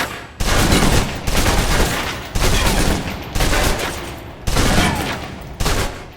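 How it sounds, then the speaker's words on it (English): A submachine gun in Alpha Protocol emptying its magazine in five loud, separate full-auto bursts, each about a second long, with brief pauses between them. "Now let's empty the clip."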